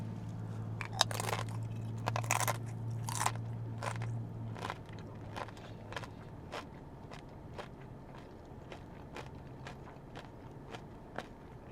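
Chipotle tortilla chips crunched and chewed up close, a series of crisp bites followed by softer repeated chewing crackles, quiet overall with a low hum beneath.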